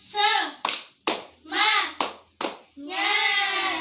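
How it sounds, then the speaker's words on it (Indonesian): A class joins in a rhythmic spirit clap led by a teacher, with sharp group claps spaced between sung or chanted voices. "Tepuk semangat, yes. Lagi kurang semangat. Sekali lagi ya. Tepuk semangat"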